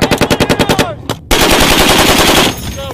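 A machine gun mounted on a Marines' combat robot fires a loud, rapid burst of about nine evenly spaced shots. After a brief gap comes a longer continuous stream of fire that cuts off sharply.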